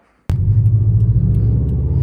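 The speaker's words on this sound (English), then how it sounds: "I'll put in a clip of the sound of this car so you guys can hear what it sounds like" A Subaru WRX STI engine kicks in abruptly after a short silence, then holds a loud, steady, deep rumbling idle with a strong low throb, close and alone with no voices.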